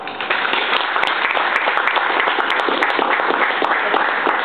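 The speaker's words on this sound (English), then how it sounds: "Where are the claps? Come on, guys." An audience claps steadily in sustained, dense applause for several seconds, fairly loud and close, with no speech over it.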